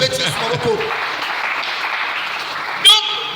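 A church congregation breaks into applause and cheering, a dense wash of clapping under and after a preacher's voice, with a brief louder burst near the end.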